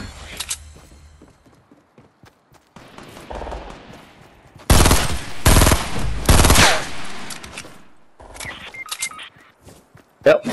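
Video game gunfire crackles in rapid bursts, with a loud, dense volley in the middle and scattered shots before and after, as players talk throughout.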